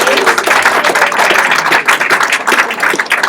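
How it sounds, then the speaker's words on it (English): An audience at a church service claps for the January birthdays, dense steady applause filling the room for a few seconds with no voices over it. "how about a round of applause for all the January birthdays?"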